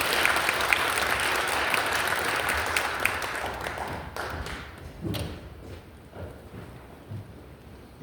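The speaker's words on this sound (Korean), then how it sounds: "교수님 나오실 때 박수로 환영해 주시기를 바랍니다." An audience at a Presbyterian church seminar in Gwanghyeon Church claps to welcome a professor, with dense applause that thins out after about four seconds into scattered claps and thumps.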